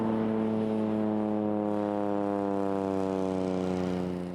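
A freight plane flying to rural Huslia, Alaska, drones loudly with a steady, rich propeller-engine hum, holding constant and fading only slightly at the end, with no talking.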